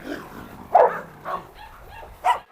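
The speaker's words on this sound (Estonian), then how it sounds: "Nüüd hakkavad Aresiga kaklema." Cane Corso and other dogs barking as they start to fight, heard as two or three short, sharp bark or yelp bursts close by over a low background murmur, with no talk.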